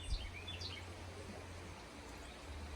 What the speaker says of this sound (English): Yet, you can still hear the birds